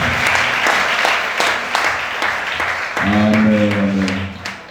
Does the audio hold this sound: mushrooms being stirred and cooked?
no